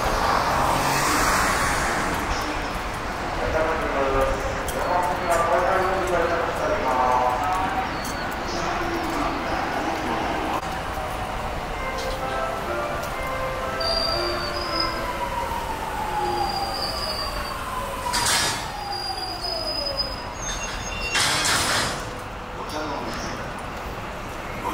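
A JR series 209 electric train pulls into Ochanomizu station during renovation work, its wheels squealing in rising and falling tones over a steady rumble, with station clatter and bursts of noise around it and people talking in the background.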